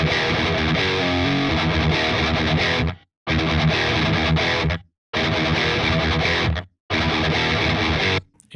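Audiority Solidus VS8100 distortion effect on its full switch setting: dense, saturated distorted tone played in four sustained bursts separated by short silent gaps, loud and alone.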